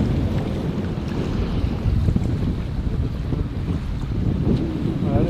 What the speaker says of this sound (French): le vent il souffle tranquillement à 15 nœuds